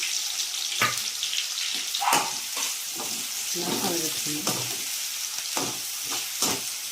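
Sliced onions sizzle steadily in a hot pan for a mutton lungs dish, with occasional stirring scrapes over the continuous frying hiss, heard close.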